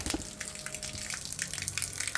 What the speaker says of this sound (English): Let's dump this water out.